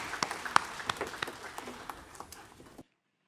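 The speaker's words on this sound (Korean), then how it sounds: "박수를 하나님께 드리겠습니다" A church congregation claps during a Sunday worship service, a moderately loud wash of many hands with scattered sharper claps, lasting under three seconds and then cutting off abruptly into silence.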